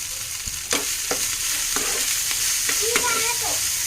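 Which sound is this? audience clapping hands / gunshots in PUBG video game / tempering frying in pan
tempering frying in pan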